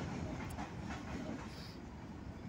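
A passing train rumbles steadily with a broad, continuous roar and faint rail rattle throughout, heard from nearby at moderate level with no voices.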